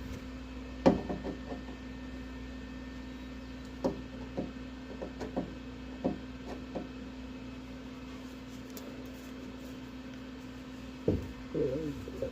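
Light metal taps set a welded patch panel into place on a car body, a few sharp knocks scattered over the stretch, one louder hit early and a small cluster near the end, over a steady electrical hum.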